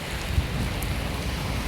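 Heavy early-morning rain pours down in Nairobi, Kenya, a dense, steady hiss of downpour close around with no voices and no breaks.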